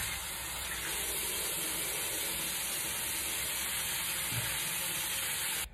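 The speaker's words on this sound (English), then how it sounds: "And now we're just going to rinse this off." Steady running water from a tap rinsing face wash off, a continuous close hiss that holds evenly throughout and stops abruptly at the end.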